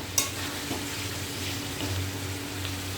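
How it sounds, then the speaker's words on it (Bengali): Spice paste (masala) fries in a pan with a steady, soft sizzle close by, plus one brief clink near the start and faint stirring scrapes. "মশলাটা কষা হতে থাকে।"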